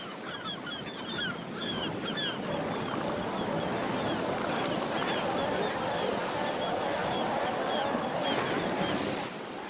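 Ocean surf rolls onto a California beach in a steady, dense wash of noise, with many gull and bird calls scattered throughout and a constant rumble underneath.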